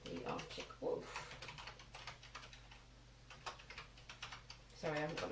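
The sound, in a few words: typing on a computer keyboard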